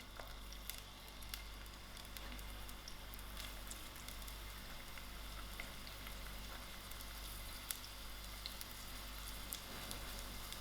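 Onions frying in oil in a pot on a stove over moderate heat, a steady, fairly quiet sizzle with faint crackles and pops running evenly throughout, with no voices.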